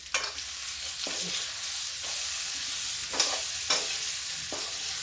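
Ridge gourd sizzles steadily in a hot pan while a spatula stirs it, several distinct scraping strokes standing out above the constant close frying hiss, with no one talking.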